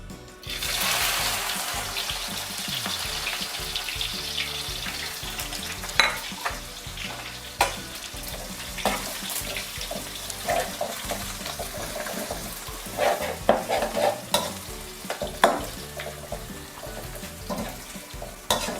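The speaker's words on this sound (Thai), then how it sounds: "น้ำมันร้อนแล้วใส่ตะไคร้ลงไปเลยค่ะ" Steady crackling and sizzling of lemongrass frying in hot oil in a pan, continuous throughout with occasional louder pops and spatters.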